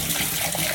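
Tap water runs and splashes while a small container used for fish food is rinsed out, a brief close, steady gush of water.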